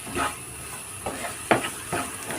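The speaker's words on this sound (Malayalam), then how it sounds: "ഇനി നമുക്കിതിലേക്ക് കേബേജ് ഇട്ട് കൊടുക്കാം" Cabbage hits a hot pan for a cabbage masala roast, hissing and sizzling steadily while a few sharp stirring scrapes and clinks cut through, close and fairly quiet.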